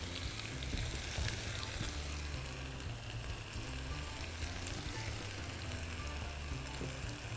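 Vegetables sizzle steadily in a frying pan while cooking imam bayildi, with dense, continuous frying crackle holding at an even, close level and no talk.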